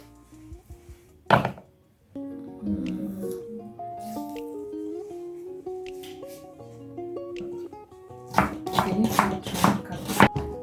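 Onions being cut on a board for a Ghanaian okra fish stew: a sharp knock near the start, then a quieter stretch of tonal music, and a dense run of brisk chopping strokes toward the end.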